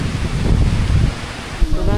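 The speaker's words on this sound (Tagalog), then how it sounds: "Sobrang lakas ng hangin ma." Very strong wind roars steadily in a dense, loud rush of noise, with gusts rising and falling and a brief louder burst near the end, close to the microphone and without talk.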